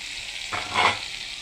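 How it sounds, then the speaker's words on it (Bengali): Potatoes and cauliflower frying together in a pan give a continuous soft sizzle, with a short stirring scrape in the middle of the brief stretch. "আলু আর ফুলকপি একসঙ্গেই ভেজে নিচ্ছি তোমরাও ভেজে নিবে একসঙ্গে"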